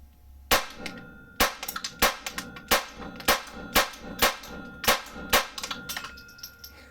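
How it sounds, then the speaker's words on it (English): A brand new Ruger Mark IV Lite 22LR pistol fitted with a Volquartsen accurizing kit fires about a dozen sharp, cracking shots in quick succession at a steady pace, close by, with no talking. "let's go ahead and shoot this bad boy"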